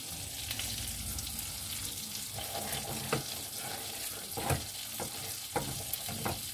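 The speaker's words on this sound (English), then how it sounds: "just stirring the scrambled eggs" Scrambled eggs sizzle in a frying pan at breakfast, a steady frying hiss under a series of scraping, tapping stirs of a utensil against the pan, close and moderately loud, with no voices.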